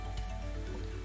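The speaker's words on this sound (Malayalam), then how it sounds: "നല്ല മഴ വരുന്നുണ്ട്" Steady rain pattering on a surface, a continuous wash of fine drops with no voices.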